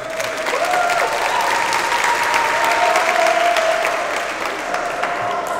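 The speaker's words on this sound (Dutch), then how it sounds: "dat is applaus waard" Audience applause at a sing-in gathering, a dense steady wash of many hands clapping for several seconds, with faint voices calling out beneath it.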